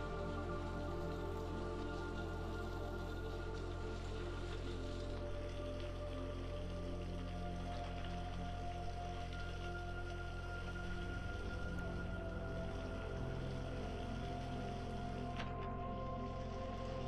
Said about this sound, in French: il commençait vraiment à pleuvoir beaucoup plus fortement